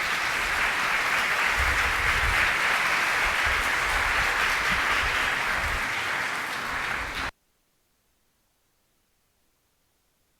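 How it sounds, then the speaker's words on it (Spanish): A conference audience gives a speaker a round of applause. The clapping is dense, loud and steady for about seven seconds, then cuts off abruptly into silence. "démosle un fuerte aplauso a Luis Frías Leal a esta conferencia"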